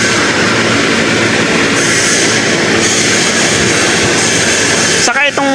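Loud, steady mechanical roar and rattle of a Slovakian-made motorised machine running close by, with a voice talking over it throughout and a sudden shift near the end.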